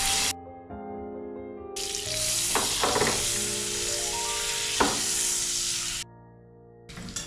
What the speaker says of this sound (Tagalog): Bali magtunaw tayo ng butter dito.